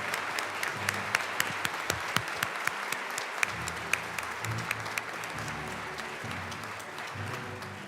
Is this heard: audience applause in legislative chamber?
yes